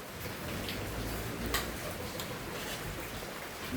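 Steady, dense rain hisses continuously, with occasional louder patters and drips against a surface.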